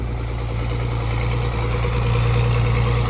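A Ford 7810 tractor engine runs steadily while reversing, a close, loud, low diesel drone with constant vibration and a slight rise in pitch toward the end, no voices.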